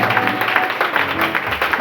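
Church congregation applauding during an evening sermon, steady dense clapping from a crowd throughout, fairly loud and close with a brief murmur of voices underneath.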